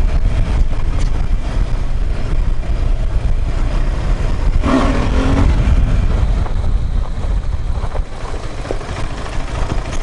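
A KTM 390 Adventure motorcycle engine runs with a steady loud drone in a rough ride-along recording, rising briefly in a revving surge midway before settling back, with wind noise throughout.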